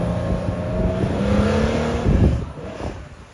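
A Porsche Carrera 2.8 RSR race car drives through Paris at night, its engine a loud steady roar with a rising pitch and a sharper surge near the end, with no talk over it.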